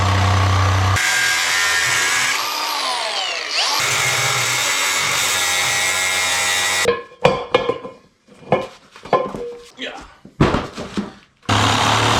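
A power tool whines loudly for several seconds, its pitch dipping as it bites into material, then short bursts of cutting and knocking follow.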